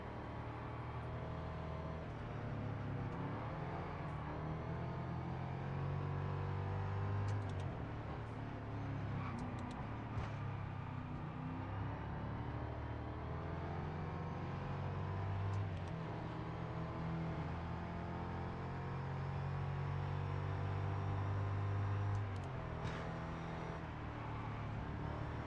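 Gearbox whine from the rear of a car in the racing game Test Drive Unlimited Solar Crown, a steady tonal whir under a continuous engine drone that rises and swells through the drive, with no talking.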